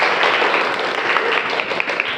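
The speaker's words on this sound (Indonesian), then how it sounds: "Beri tepuk tangan untuk Safira." A room of people claps for a bride-to-be during a religious talk on marriage, a short, loud, close burst of dense applause.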